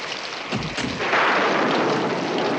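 Steady, heavy rain falls, a broad hiss that swells and thickens after a dull low thump near the start, with no voices.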